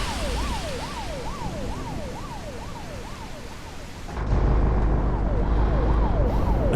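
An ambulance siren in a video game, a wailing up-and-down tone repeating steadily over road rumble, briefly dropping out before a louder engine roar surges in and the wail returns faintly.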